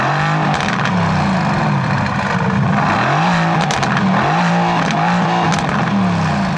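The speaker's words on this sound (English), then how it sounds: "the AMG exhaust system, and I promise you, the sound that comes out of those tailpipes" The AMG exhaust system of a 2016 Mercedes-AMG GT S roars loudly as the car drives hard, engine pitch climbing and dropping through repeated shifts, with sharp pops and crackles over a steady road rush.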